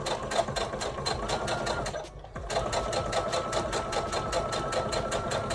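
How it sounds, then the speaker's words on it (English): A sewing machine stitches down the princess seam of a lace wedding dress, running in a fast steady rhythmic whir, pausing briefly midway before resuming, close up with no talking. "And then I'm also going to sew down the princess seam."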